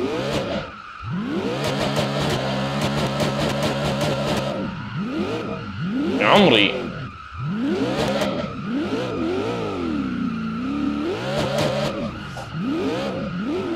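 A video game car fitted with a hood-mounted exhaust revs hard through repeated rising and falling gear sweeps, with a sharp tire squeal midway, loud and close, alone with only a brief word spoken.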